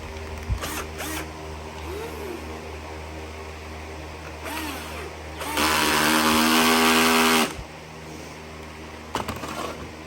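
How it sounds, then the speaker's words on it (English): A cordless screw gun's clutch slips with a loud, buzzing ratchet for about two seconds, after a few brief clicks and whirs from the tool, heard close up while working on the starter of a Ford F350 7.3 Powerstroke. "That's just the sound of my clutch slipping in my screw gun there."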